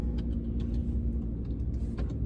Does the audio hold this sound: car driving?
yes